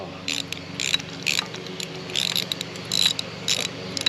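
A ratcheting wrench clicks in short bursts at close range, each a quick run of dry metallic ticks, with a faint low hum underneath.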